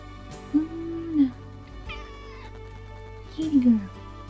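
A house cat gives two drawn-out meows a few seconds apart over a quiet, steady indoor hum. The meows are close and moderately loud.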